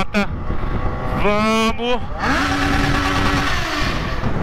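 A Yamaha XJ6 motorcycle engine revs up in rising whines, dropping between bursts and climbing again, loud and close, with someone shouting briefly as it starts.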